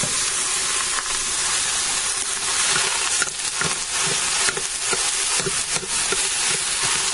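About 2.5 pounds of 80-20 ground hamburger browns in an 8-quart pressure cooker, giving a steady loud sizzle and crackle with small pops throughout and no talking.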